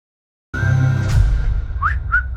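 Someone whistles a tune, a sustained clear whistle starting after a brief silence, with a few sliding higher notes near the end over low background sound.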